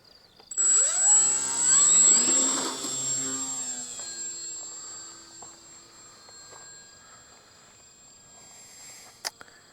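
Engine drone of a Ki-61 Hien fighter in the Aircombat 3D flight game, a loud rising whine with harmonics during a takeoff, then a steadier, fainter hum as the plane flies on, with a brief click near the end.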